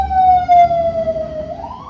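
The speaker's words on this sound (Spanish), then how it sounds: "Ahí hay una ambulancia por si la pueden llegar a escuchar." An ambulance siren wails nearby as it passes, a single sustained tone sliding slightly down then rising again, with faint traffic rumble underneath.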